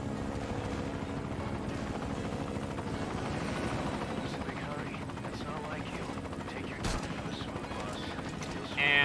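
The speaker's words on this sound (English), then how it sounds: "we're just gonna destroy this chopper for good measure" In the video game Metal Gear Solid V: Ground Zeroes, a helicopter's rotor chops loudly and continuously, with a sharp bang-like burst partway through and a brief rise in noise at the end.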